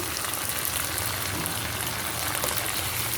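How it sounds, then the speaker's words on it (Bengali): Mustard paste frying in oil in a pan with a little water added gives a steady, close, dense sizzle that holds at an even level throughout, with no talking. "একটু পানি অ্যাড করব।"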